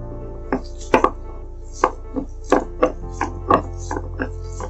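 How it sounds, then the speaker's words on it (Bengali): Onions ground on a shil-nora grinding stone for an egg curry: about ten firm, close stone-on-stone strokes in a steady rhythm over a low background hum, with no voices. "এখন পেঁয়াজগুলোকে বেটে নেব।"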